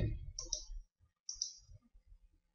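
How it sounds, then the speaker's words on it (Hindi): A computer mouse clicked twice on a Windows 7 desktop, two crisp, close clicks about a second apart, with faint low talk in between. "अब हम यहाँ पे आते हैं, क्लिक करते हैं।"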